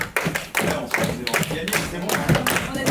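Applause from an improv-theatre audience at an integration seminar, dense hand clapping filling the room, loud and close, with voices mixed in.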